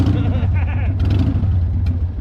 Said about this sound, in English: It's a Harley, you gotta rev it.